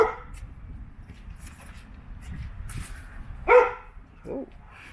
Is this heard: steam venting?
no